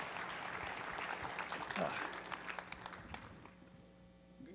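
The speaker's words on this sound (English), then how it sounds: "let's go ahead and give Matt a warm round of applause as he comes to the stage" Audience at a VR conference keynote applauding as the presenter comes to the stage, a moderate wash of clapping that peaks early then thins and fades, with voices talking briefly over it.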